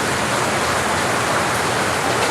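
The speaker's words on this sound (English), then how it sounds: "I'm just going to be in this space right now with the rain." Steady rain falling, a dense, even hiss of drops filling the whole stretch at a constant close level with no breaks or other sounds.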